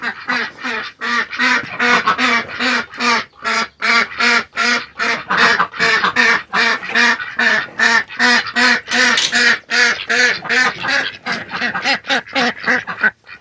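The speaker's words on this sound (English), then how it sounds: "we're going to let the big ducks out" Several big ducks in a backyard quack loudly and continuously as they are let out of a pen, with dense overlapping calls in a steady choppy rhythm close by.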